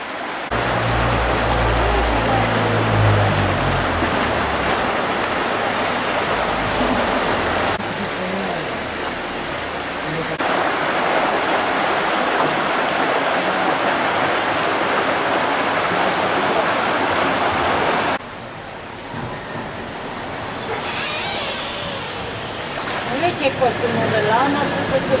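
Heavy rain pours down and floodwater rushes through a flooded street in Palermo, a loud steady roar of water throughout with shifts in intensity and some faint voices beneath.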